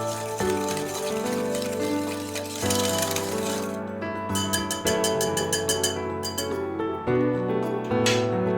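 A utensil clinks repeatedly against a bowl while dorayaki batter is mixed with a shiratamako glutinous rice flour mixture; close, bright taps come in quick runs over a faint steady hum, with no talking.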